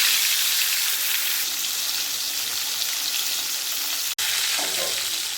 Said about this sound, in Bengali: তেল গরম হয়ে গেছে এর মধ্যে দিয়ে দেবো ম্যারিনেট করে রাখা মাছ